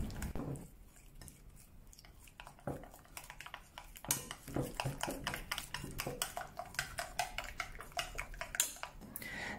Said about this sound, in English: Mix a beaten egg with a large tablespoon of cornstarch to form a thick slurry.